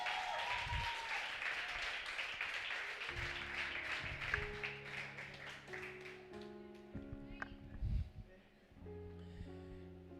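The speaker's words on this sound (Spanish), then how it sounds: "dale un aplauso al Señor." A church congregation at a Sunday service claps steadily, strongest at first and gradually thinning, while instrumental music and low tones swell beneath and carry on after the clapping fades.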